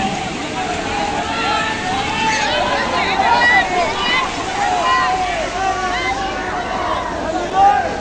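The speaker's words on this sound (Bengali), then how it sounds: "দেখতে পারছো অনেক ঢেউ।" Large waves wash and splash across the water at Safina Park in Rajshahi, a steady broadband surge mixed with wind gusts and the distant babble of a crowd throughout.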